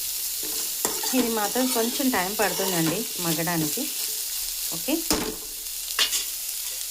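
Ridge gourd pieces are stirred in a pan, with a soft sizzle and scraping while someone talks over it, followed by a few sharper utensil knocks near the end.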